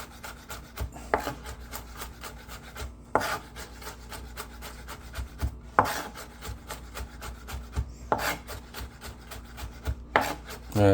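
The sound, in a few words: chopping fresh garlic with a knife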